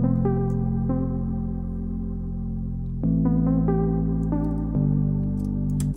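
A Nexus 3 pluck synth plays a slow melody with reverb and no delay, its bright plucked notes ringing out and overlapping in a washy tail over sustained low tones, with no voices.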